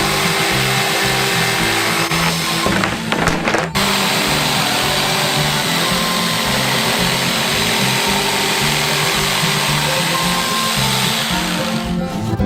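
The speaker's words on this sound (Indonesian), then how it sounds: "lalu memotongnya dengan gergaji kayu" A loud, continuous buzzing wood saw cuts through a frozen block of ice cream, running steadily throughout, with a brief change in tone partway through and no voices.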